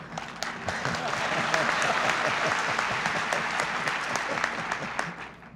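An insurance convention audience applauds after a speech by President Reagan, a full roomful of clapping that swells, holds steady, then fades, with some voices underneath.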